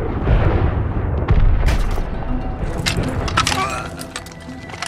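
A machine gun fires in battle amid booms and cracks of surrounding gunfire and explosions, loud and dense throughout, with voices shouting underneath.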